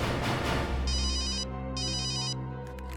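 An electronic telephone ringtone trills in two bursts over a loud, dramatic musical backdrop, with no voices.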